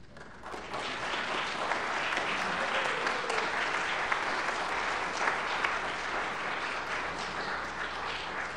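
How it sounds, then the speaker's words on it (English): An audience applauds a choir concert in a church, producing a steady wash of clapping from many hands that holds at an even level throughout. "one more round of applause for the Bluff Singers and the soloist"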